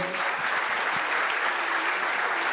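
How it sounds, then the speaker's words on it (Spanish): Steady audience applause for a minister at a business luncheon, even and continuous clapping from a room of people, fairly distant and uniform. "Un aplauso."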